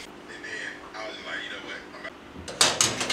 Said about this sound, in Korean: 전원을 끈 오븐 안에 반죽을 넣으시고요.